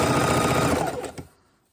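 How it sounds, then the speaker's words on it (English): A sewing machine stitches fabric in a rapid, even chatter of needle strokes, close and loud, then slows and stops near the end. "we're going to go ahead and stitch a good 1/4 inch in all the way around"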